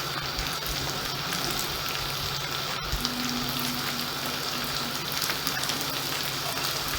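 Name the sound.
cauliflower frying in a pan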